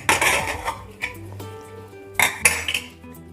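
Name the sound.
opening pressure cooker lid, pots clanking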